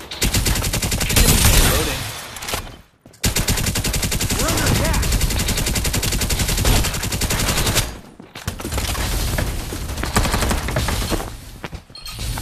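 Heavy shotgun blasts and rapid automatic gunfire from a shooter video game, loud and nearly continuous, broken by two brief pauses.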